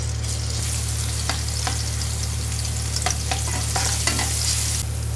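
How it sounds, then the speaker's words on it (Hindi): Ginger garlic paste sizzles and fries steadily in hot oil on a tawa, with a few stirring scrapes cutting through the continuous crackle and a low steady hum underneath. "अब हम इसके अंदर डालेंगे अदरक लहसुन पेस्ट। इसको हम 1 मिनट के लिए फ्राई करेंगे।"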